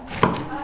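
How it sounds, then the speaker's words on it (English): A single sharp knife chop through cabbage on a board, one short close thud while the leaves are cut finely. "just start chopping it like as finely as you can"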